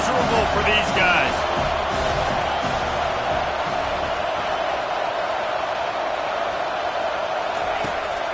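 Steady roar of a football stadium crowd at a West Virginia college game, loud and constant, with a commentator talking over it throughout.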